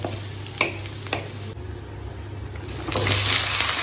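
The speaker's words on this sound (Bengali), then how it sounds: "আদাটা একটু ভাজা হলেই আমি তার মধ্যে ভেজিটেবলটা দিয়ে দেবো" Vegetables fry in a pan with panch phoron, dried chili and ginger, making a soft close sizzle with a few light stirring knocks, then swelling into a louder hiss near the end.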